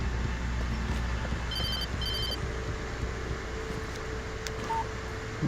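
An electronic telephone rings in the Alan Wake video game, giving two short bursts of trilling tones over a constant low ambient drone.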